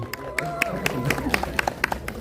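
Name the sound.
audience applauding at a press conference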